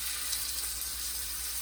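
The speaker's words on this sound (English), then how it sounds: "once I put this down, it's going to sizzle right away" Chicken sizzling in a hot pan during pan-searing, a steady, close, hissing crackle that holds evenly throughout with no talking.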